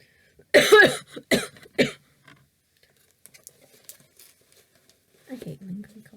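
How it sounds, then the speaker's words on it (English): A person gives three sharp, close coughs in quick succession, then the clip goes mostly quiet apart from faint small rustles. A low throat-clearing grumble follows near the end. "I hate lingering coughs."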